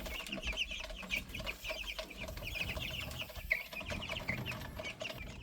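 Hubbard chickens cluck repeatedly in a busy flock, a steady stream of short calls at moderate distance with no talking.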